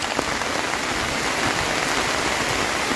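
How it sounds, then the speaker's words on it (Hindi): Heavy rain pours down in Chandur Forest in Hooghly district, a dense, unbroken hiss of drops striking leaves and ground, loud and steady throughout with no voices. "बारिश हुए जा रही है रुकने का नाम ही नहीं ले रही है।"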